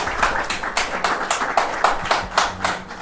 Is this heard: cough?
no